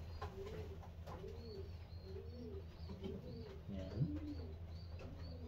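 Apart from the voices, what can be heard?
racing pigeon cooing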